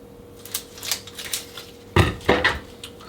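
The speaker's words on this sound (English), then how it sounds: "we're just going to take our onion, cut off that end, get rid of the dry skin" Knife cutting the end off an onion and peeling away its dry skin on a kitchen board, a series of light taps and scrapes followed by two sharper, louder chops close by.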